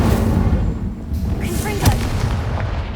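Booming blasts from the Confringo fire spell in Hogwarts Legacy, dense low thuds that roll into one another and stay loud across the whole stretch, with game voices mixed underneath.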